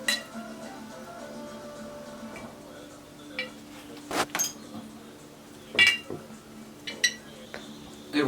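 Scoops of dried cedar are measured into an incense blend, scattered light clinks and taps of a scoop against a container with soft rustles between them.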